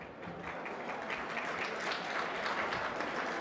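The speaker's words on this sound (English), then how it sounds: "Clap if you're having fun" Quiet, even audience clapping at an evening plenary event for a wireless innovation challenge, a soft continuous patter heard from a distance with no voices over it.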